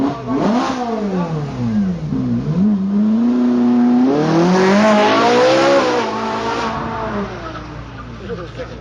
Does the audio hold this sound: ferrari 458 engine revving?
yes